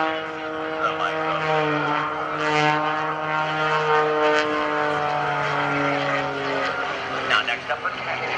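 A propeller aerobatic airplane at an airshow drones overhead with a steady, strongly tonal engine note that rises and falls in pitch as it maneuvers, loud and sustained, while an announcer talks over it.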